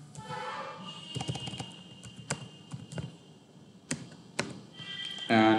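Keys tapped on a computer keyboard while entering a password, a few scattered clicks and short bursts of typing, close and fairly quiet, ending in a brief louder electronic tone.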